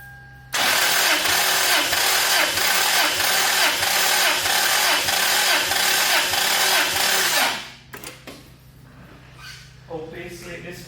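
A Toyota 5VZ-FE V6 cranks steadily on the starter for about seven seconds during a compression test, loud and close with a fast regular rhythm. It then stops, leaving quieter clatter and background noise.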